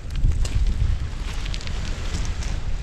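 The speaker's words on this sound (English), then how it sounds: "the wind has switched round, and literally immediately it's gone, and now it's coming that way" Strong wind gusts across an open stretch of coast during a sea fishing trip, a continuous rough roar of buffeting with low rumbling microphone noise, steady and loud for the whole stretch with no voices.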